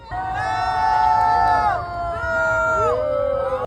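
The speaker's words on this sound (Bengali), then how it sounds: "তখন চারপাশে শোনা যায় উল্লাস ধ্বনি উপস্থিত জনতা তাকে করতালি দিয়ে স্বাগত জানান" A crowd cheers and shouts in welcome as Donald Trump steps out of a limousine, loud and continuous, with a few voices rising above the roar.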